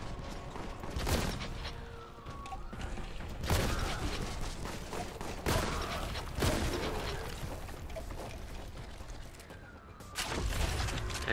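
Shotgun loaded with cracking rounds firing in the game Warhammer 40,000: Boltgun, with repeated loud booming blasts and mechanical clunks spaced a second or two apart through dense game noise.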